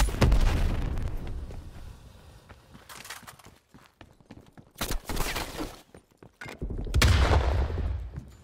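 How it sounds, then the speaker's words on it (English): Incoming artillery fire in the Call of Duty Cold War multiplayer Hardpoint mode: several heavy thudding blasts and rumbling bursts hit in uneven succession, loud and close, with little talk over them. "Incoming artillery."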